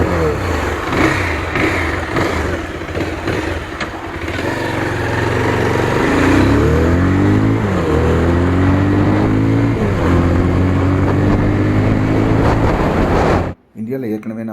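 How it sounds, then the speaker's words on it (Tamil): Bajaj Pulsar 220F motorcycle exhaust note, a loud, close engine run with rising and falling revs over a steady idle, ending abruptly near the finish. "வண்டியோட எக்ஸாஸ்ட் நோட் கேட்டுக்கோங்க."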